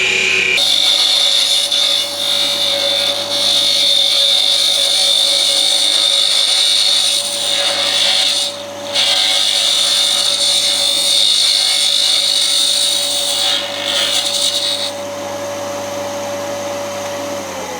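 A wood lathe spins steadily while a turning tool undercuts the hollow inside of a wooden globe ornament, giving a continuous loud whirring hum with a high whine that dips briefly twice before easing slightly near the end.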